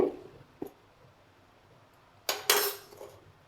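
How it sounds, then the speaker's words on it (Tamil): Steamed wheat flour puttu is stirred and broken up in its vessel: a soft knock early on, then a pair of louder scraping, clinking bursts of a utensil against the pot, close and otherwise quiet. "இப்போ ஒரு கிண்டு கிண்டி விட்டு எல்லா பக்கம் உடச்சி விட்டு"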